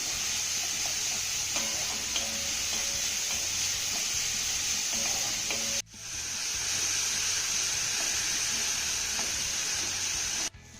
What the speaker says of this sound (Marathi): आता हा घातलेला कांदा ना हलक्या सोनेरी रंगावरती आपल्याला चांगला परतून घ्यायचा आहे